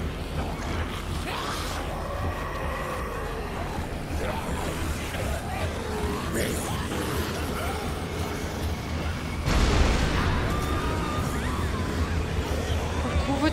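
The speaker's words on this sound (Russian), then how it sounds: "все взрывается" Dead Rising 3 game sounds fill the scene, with a heavy explosion bursting in near the end over a constant background rumble and scattered noises.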